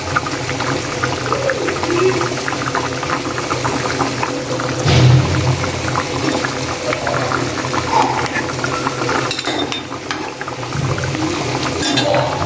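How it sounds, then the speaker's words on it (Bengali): Fish curry boiling in an open pot, a continuous bubbling, simmering roar close by with a brief louder splash midway, no talk. "বলক এসে পড়েছে, তো এই যে মাছগুলা দিয়ে দিচ্ছি"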